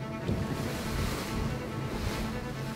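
Ocean swell surges and washes steadily around the classic sailboat Mariquita during a regatta of historic yachts, a constant close roar of rushing water and wind with no voices.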